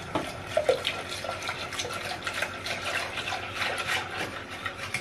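Milk poured into pastry cream for a strawberry tart, a steady close liquid pouring and splashing sound that continues throughout.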